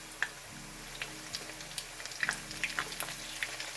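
Hash browns frying in hot oil in a pan, giving a soft, steady sizzle with scattered crackles and pops, close but quiet, with no talking.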